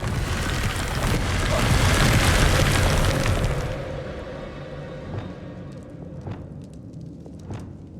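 A Confringo blasting spell erupts in Hogwarts Legacy, a loud, broad roaring explosion that swells for several seconds and then decays into a crackling rumble with scattered small pops, no voices heard.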